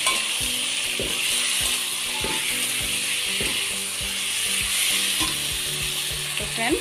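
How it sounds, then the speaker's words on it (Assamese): Chicken pieces frying in an onion, garlic and ginger masala, with a loud continuous sizzle and rhythmic scraping stirs of a utensil against the pan, repeating every half second or so. "এতিয়া মই মাংসখিনি এড কৰি দিম"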